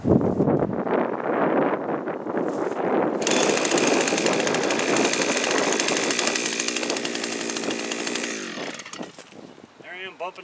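A 63cc pole-mounted chainsaw runs at a steady, loud, high-revving whine while cutting through growth like a string trimmer, then the engine sputters and winds down near the end.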